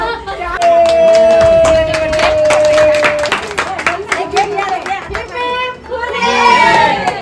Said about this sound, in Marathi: मस्त टाळ्या वाजवा